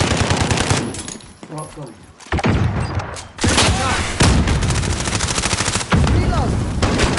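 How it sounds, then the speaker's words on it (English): Repeated bursts of automatic gunfire and explosions in Call of Duty: Modern Warfare, loud and dense for most of the stretch, with a brief lull early on and a voice talking over the shooting. "Enemy fire!"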